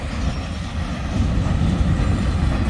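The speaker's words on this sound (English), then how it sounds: "When I seen the grain train coming" A Union Pacific grain train rumbles past on the Ogden Subdivision at Wheelon, Utah, a steady low roar that swells slightly and holds loud throughout.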